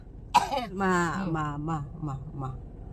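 A sharp cough bursts out near the start, followed by a person talking in a raised, animated voice for the rest of the moment.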